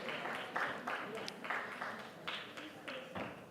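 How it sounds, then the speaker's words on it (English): Audience applause as a panel of speakers leaves the stage at a real estate conclave in Delhi, a steady wash of many hands clapping that swells and dips in waves for a few seconds, with a loud continuous texture. "A huge round of applause once again, ladies and gentlemen, as they exit stage"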